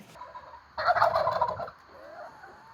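Turkeys gobbling: a loud, rapid burst of warbling gobbles about a second long, rising sharply from a quiet background, followed by softer trailing calls.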